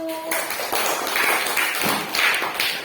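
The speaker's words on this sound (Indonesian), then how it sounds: "Oke, beri aplaus untuk kelompok 1." A classroom of primary school students applauding a student group, a dense burst of clapping hands filling the room for a few seconds, fairly near and without speech.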